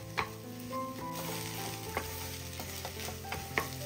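A mashed potato mixture is stirred and broken up in a hot pan while it sizzles steadily, with close spoon scrapes and occasional taps over the continuous frying hiss.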